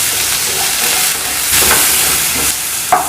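Steady close-up sizzling of mustard seeds, urad dal and onion frying in a little hot oil, a continuous crackling hiss with occasional stirring scrapes.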